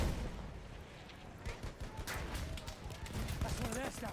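Machine gun fire in Battlefield 6 multiplayer. After a quieter rumbling start, short bursts of shots crack out over a dull battlefield din, and a voice talks over part of it.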